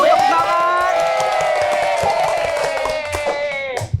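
An audience at an Indonesian TV game show with teams of mothers claps along with cheering and whoops, a steady close crowd noise with a bright sustained tone running through it that cuts off sharply near the end.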